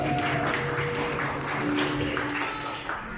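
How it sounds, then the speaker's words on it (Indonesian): Steady applause and clapping from a crowd of youths and teenagers at a Christmas gathering in an orphanage, cheering the winning group of a game, dense and sustained throughout, with some voices mixed in. "Mana tepuk tangannya dong?"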